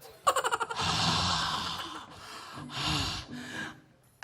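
A person wearing a mask pants and gasps for breath, opening with a quick run of short sharp breaths followed by long heavy rasping exhalations, close and loud.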